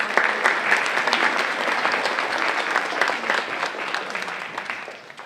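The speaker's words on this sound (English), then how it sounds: "give you a big round of applause for parents of our spellers" Parents of spellers at a 2019 spelling bee receive steady applause from the audience, many hands clapping densely and evenly for about five seconds at close, full level with no talk over it.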